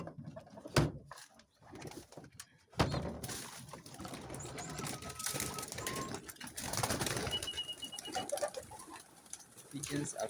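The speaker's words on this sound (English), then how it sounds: "Let me first open the pigeons room." Pigeons kept in a room on a poultry farm coo softly amid rustling, clattering and door noises, with a person talking intermittently nearby.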